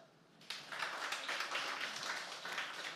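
A church congregation breaks into sustained applause after a sermon line, a faint, steady wash of many hands clapping that starts abruptly and continues without talk.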